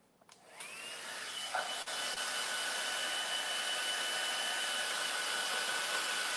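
A hair dryer blows steadily over a freshly painted floor, switching on with a rising whine and then holding a loud, even whoosh of air throughout, with no talking.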